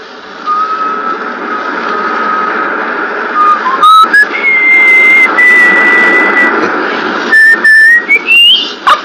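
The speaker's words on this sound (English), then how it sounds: "Can you whistle? Sure. Whistle." A man whistles a bright, wavering tune alone, long sustained notes sliding up and down with brief breaks near the end, close and loud in an old radio drama recording.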